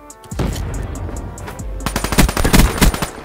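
Rapid video game gunfire rings out close and loud: a few scattered shots, then dense bursts of automatic fire crackling over about three seconds.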